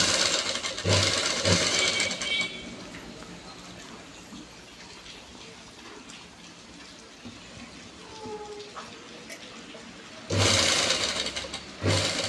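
A sewing machine top stitches fabric in short loud bursts at the start and end, with quieter handling of the cloth in between and no clear talk.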